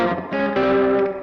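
Electric guitar through a Boss DD-3 digital delay pedal on its short delay mode, sustained chords smeared into a dense reverb-like wash, with a fresh strum partway through and no voice.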